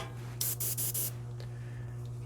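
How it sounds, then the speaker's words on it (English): An airbrush sprays paint over pieces of sheet plastic in a few short hissing bursts close to the mic, followed by a low steady background hum. "I'm going to spray this stuff over them"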